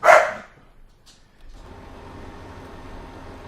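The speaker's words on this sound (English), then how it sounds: "as you can hear my dog going crazy" A pet dog barks in a short, loud burst at the start, then the sound drops to a low, steady background hum of farm machinery with no further barking.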